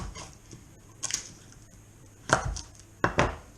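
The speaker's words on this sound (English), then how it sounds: "The garlic, let's chop the ends off." A knife chops the ends off garlic cloves on a board, a few sharp, separate knocks spaced apart, the last two close together, with quiet pauses between and no talking.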